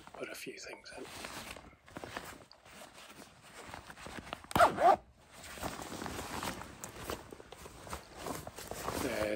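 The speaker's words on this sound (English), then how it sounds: "There's a relief zip, which is absolutely essential on long days out paddling" A zipper runs once on a Gore-Tex Pro semi-dry paddling suit, a short, loud rasp partway through, while someone talks quietly over faint rustling of fabric.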